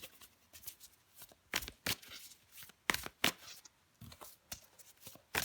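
Quiet, close card handling as a tarot card is drawn from a deck: a series of soft, crisp shuffling and sliding flicks in uneven bursts, with no talk.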